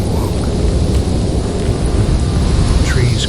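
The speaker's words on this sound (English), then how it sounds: "and the storm awoke." A thunderstorm with thunder and wind roars as a loud, continuous wash of dense rumbling and gusting noise, filling the whole stretch with no clear breaks.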